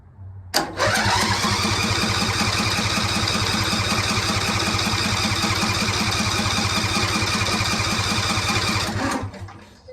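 A Briggs & Stratton Intek 21 HP engine is cranked for about nine seconds without starting, with a loud rapid rhythmic chugging from the starter that begins abruptly and stops just as suddenly, with no voices.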